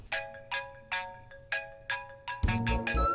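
Phone ringtone for an incoming video call, a repeated chiming pattern in even bursts, then louder music swells in near the end; no talking.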